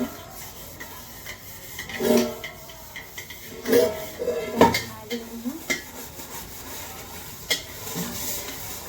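Dishes, pots and pans are washed in a home kitchen, with intermittent clinks and scrapes of cookware rising over running rubbing sounds, alongside some faint talk.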